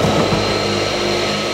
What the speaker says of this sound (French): C'est bon, allume l'aspirateur.